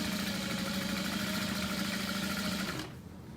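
A sewing machine stitching a tote bag near a pocket, running as a fast, steady, loud mechanical whir for nearly three seconds before stopping abruptly, with no talk.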